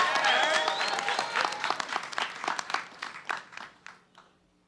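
Applause from an audience at a hip-hop museum induction gala erupts loudly, then thins out into scattered claps and fades away, with voices faintly mixed in at the start.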